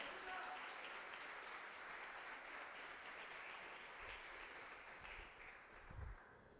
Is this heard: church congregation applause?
yes